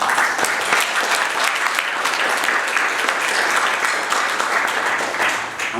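Steady, full applause from an audience at a Korean-American business friendship forum, many hands clapping evenly for several seconds at close range without talk.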